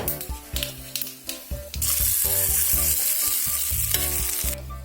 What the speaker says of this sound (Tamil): இப்போ கருவேப்பிலை போட்டுக்கலாம். ஃபுல்லாக தாளிச்சு விட்டுட்டு